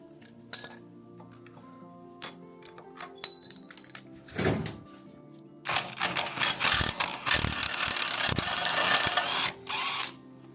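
Ratchet work on an abandoned Toyota Supra being rebuilt, taking off the center axle nut: light metallic clinks and clicking at first, then a dense, loud stretch of rapid ratcheting and rattling close by, no voices.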